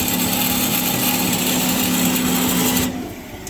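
Marvel Spartan S330/2 miter bandsaw cutting material at an angle, a steady loud mechanical whine with a constant hum that runs for about three seconds, then drops off sharply as the cut ends.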